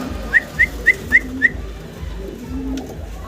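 A pair of Madrasi Golla fancy pigeons gives five short, sharp calls in a quick, evenly spaced run, then falls quiet against a low background hum.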